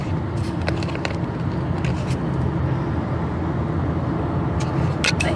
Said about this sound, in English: look at Texas Friday afternoon traffic